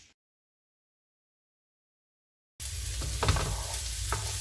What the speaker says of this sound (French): là je suis en train de faire revenir les oignons